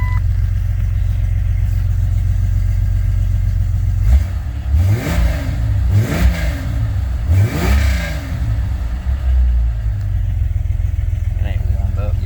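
A Jeep XJ engine, freshly tuned with HP Tuners and not yet warmed up, idles steadily and then revs up and down three times in quick succession before settling back, close and loud, with someone talking over parts of it.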